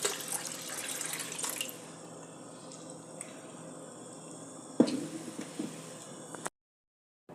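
Water pours from a half tumbler into a Mexican horchata agua fresca drink, giving a soft, close splashing trickle that runs for several seconds with one brief louder splash before stopping abruptly.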